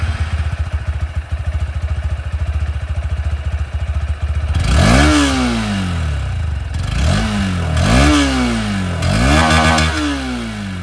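A Honda Hornet 2.0 motorcycle idles with a steady, even exhaust burble, then is revved hard three times, each blip climbing quickly and falling back, loud and close with no talking.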